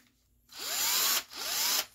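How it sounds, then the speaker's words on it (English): An electric drill spins up twice in quick succession, whirring loudly up close in two short bursts, with a part of a nitro monster truck chucked in it, with no voices. "chuck the piece into my drill."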